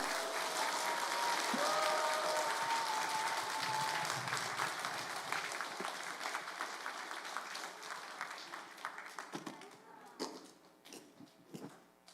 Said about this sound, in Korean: 우리 크게 박수하면서 환영하겠습니다